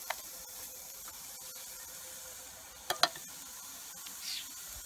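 Courgette spaghetti frying in olive oil in a pan gives a soft, steady sizzle and hiss, broken by a couple of sharper clatters near the middle and a brief swell of stirring toward the end.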